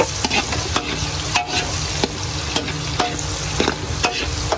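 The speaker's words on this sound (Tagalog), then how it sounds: "Lagyan na natin ang bawang at sibuyas." Garlic and onions sautéing in a pan for pancit canton, a loud continuous sizzle broken by regular scraping strokes of stirring, with no voices.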